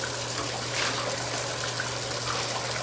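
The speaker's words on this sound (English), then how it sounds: "Just need to rinse this tub off." Steady rush of water rinsing off a bathtub during a bathroom cleaning, a continuous loud spray splashing across the tub surface close by, with no talking.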